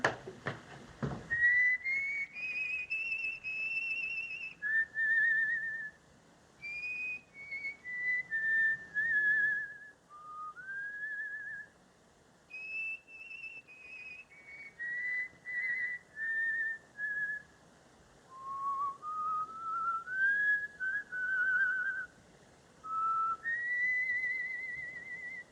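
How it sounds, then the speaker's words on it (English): A man whistling a wandering melody at night in a 1936 film scene, a long run of clear, sustained whistled phrases separated by short pauses, steady and fairly close, with no talk over it. "I wish he'd put his whistle out"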